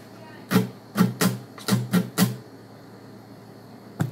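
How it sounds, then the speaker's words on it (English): Muted guitar strums tapping out the pre-chorus rhythm of a song, six quick percussive hits in a short burst then one more after a pause, fairly quiet and alone. "So the pre-chorus strumming pattern sounds like this."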